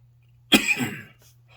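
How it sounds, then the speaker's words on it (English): A single person's cough, one sharp burst trailing into a brief rough exhale, close up against a faint steady hum indoors. "I think it's something in my house that's making me cough"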